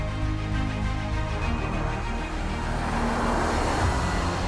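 A 2021 Porsche Taycan Turbo S electric car drives at speed, giving a steady, close, continuous road and drivetrain roar with a faint tonal whine and no voices.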